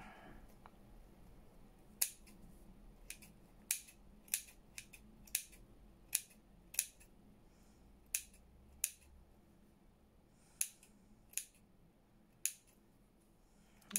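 Scissors snip craft netting in a series of about fifteen sharp, isolated clicks spaced irregularly over quiet room tone, close and crisp.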